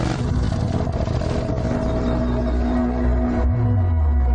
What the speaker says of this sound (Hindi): अभी बाइक स्टार्ट कर।